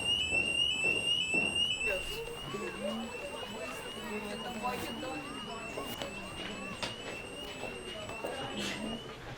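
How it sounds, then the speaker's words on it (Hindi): A school fire alarm rings with a repeating high electronic tone that sounds clearly at first and then continues less loudly, while agitated voices talk and call out over it. "Fire alarm."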